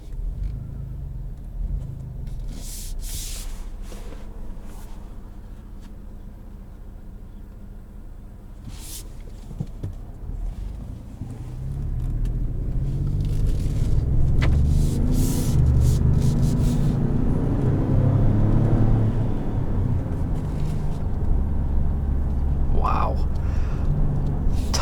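A Ford Expedition Max with a 3.5 twin-turbo V6 builds a deep, swelling rumble as it accelerates in sport mode, heard from inside the cabin with a voice talking briefly early on.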